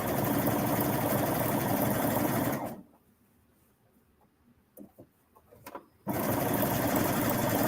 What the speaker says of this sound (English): I'll just make sure I stop and stretch and sew it every few inches.